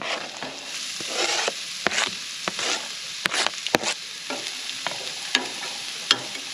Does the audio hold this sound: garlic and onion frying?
yes